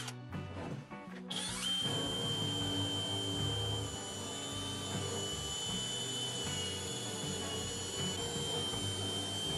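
A handheld drill fitted with a drum sanding attachment starts after a brief rattle, then spins at a steady, high-pitched whine with a continuous motor hum, close and loud, without talk.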